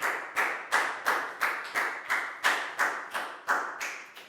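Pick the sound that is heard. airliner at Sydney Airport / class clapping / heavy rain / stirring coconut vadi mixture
class clapping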